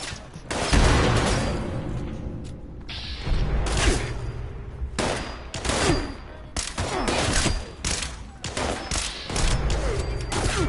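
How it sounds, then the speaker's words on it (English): Gunfire rattles through a Fallout 76 Wastelanders battle in loud, dense bursts and fusillades with short pauses, close and continuous over about ten seconds. "they're just shooting up here"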